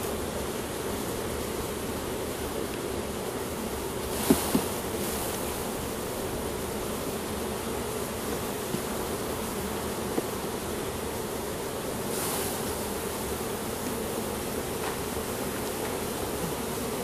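Honey bees buzzing around a hive, a dense continuous drone of many insects close by, with a few louder fly-past buzzes and occasional light knocks, no talking.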